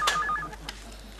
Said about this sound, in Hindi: मैं फोन करके बोलती हूँ